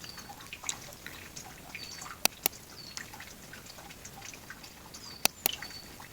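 Water dripping from a pipe outdoors in the Italian mountains, with sharp isolated drips landing among a faint constant trickle, two pairs of louder close plinks standing out, no voices.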